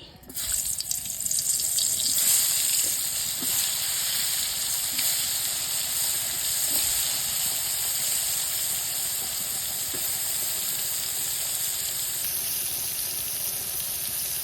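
Eggplant hits hot oil in a wok and erupts into a loud, sustained hiss of frying that holds steady for many seconds.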